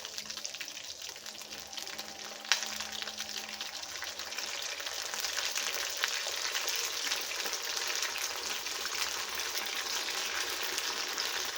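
Green kababs frying in a pan over a medium flame, giving a steady, even sizzle that stays close and constant throughout, with a sharp clink or tap near the start and no talking.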